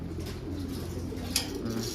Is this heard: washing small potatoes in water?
no